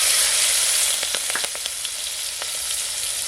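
Green chilli pieces sizzle steadily in hot oil with asafoetida in a village kitchen pot, a loud dense hiss with a few sharp crackles and pops midway.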